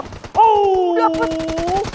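Gunfire in PUBG Mobile during an esports championship final, a rapid rattling burst of automatic shots under a sustained tonal sound, with a commentator's voice nearby.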